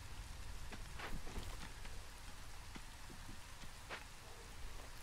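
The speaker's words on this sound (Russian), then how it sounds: "Дождик идет." Steady rain falls throughout in the settlement-building game Against the Storm, a dense continuous patter of drops with scattered brighter splashes, fairly quiet and with no voices over it.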